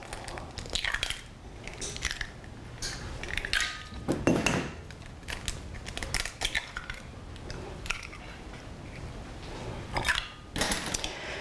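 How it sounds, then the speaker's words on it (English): Two eggs beaten lightly in a 2-quart microwavable measuring bowl, giving quick clicking and tapping of utensil against the bowl in uneven bursts, fairly close with no talk. "And you can just beat those a little bit."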